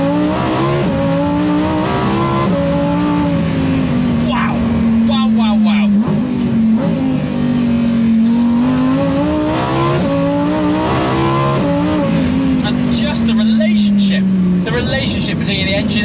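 A Lamborghini Huracan STO engine pulls hard on the road, the loud close-up exhaust note rising and falling through the revs over successive gear changes. Someone talks briefly near the end.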